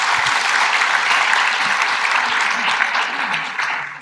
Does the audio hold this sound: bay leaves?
no